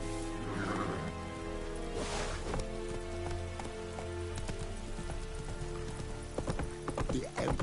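Horse hooves clip-clop steadily on the ground in The Witcher 3, with a soft patter of rain underneath and a few sharper clatters near the end.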